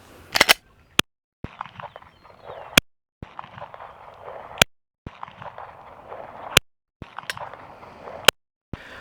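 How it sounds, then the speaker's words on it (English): Five sharp pistol shots from a Glock 17 Gen 2 aimed with iron sights, spaced about a second or two apart, each a loud crack standing out over faint outdoor background rustle. "we're going to start out with the Glock 17 Generation 2 with the iron sights"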